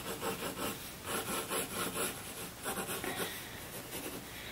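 Pencil on paper being rubbed back and forth over a skull drawing, a dry scratchy rasping in short repeated strokes, close and fairly loud with no talking.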